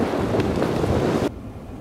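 Strong wind gusts over a frozen, snow-covered lake on a cold whiteout day, roaring and buffeting close to the microphone before cutting to a quieter, duller rush.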